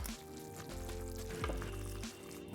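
Green chile chicken enchilada filling is stirred in a pan, giving a faint, wet, squelching churn with soft sizzle and a couple of quick scrapes, heard up close with no voices.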